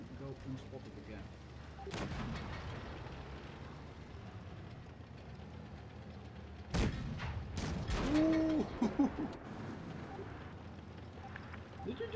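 Tank guns boom in World of Tanks Blitz during a British light tank match. There are sharp cannon blasts near the start and midway, with rumbling battle noise and mechanical clanks between them, while a player talks over it.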